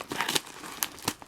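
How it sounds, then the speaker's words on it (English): A thick mail package is opened up close, with short bursts of crinkling and tearing packaging, a few separate rustles and rips over just over a second, no talking. "Let's go with the bigger of the three packages."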